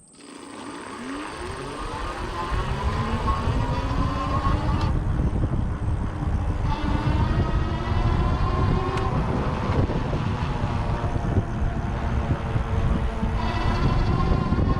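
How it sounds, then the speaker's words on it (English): The rear hub motor of a Go Power Go Express electric scooter spins up to full throttle, a rising electric whine that climbs over a few seconds and then holds loud and steady with wind noise. "I'm gonna do one more shot of the motor with it on full throttle, just so that you can hear what that sounds like"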